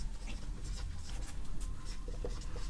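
Chalk or marker writing an answer on a classroom board, a soft continuous scratching and rubbing over low room hum, faint and steady with no talk.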